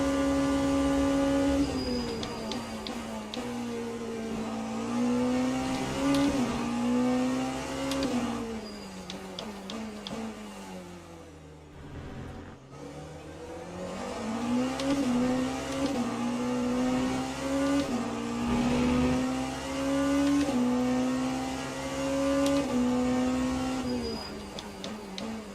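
Ferrari and Toyota endurance race cars at Portimao in Le Mans Ultimate, engines droning and revving continuously with rising and falling pitch, a brief dip mid-lap before loud, steady engine roar resumes.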